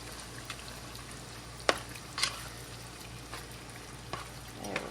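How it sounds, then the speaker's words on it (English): Crushed tomato spaghetti sauce being stirred in a pot, a soft continuous simmering sizzle with occasional scrapes and clinks of the spoon against the pot. "Then we just stir this around."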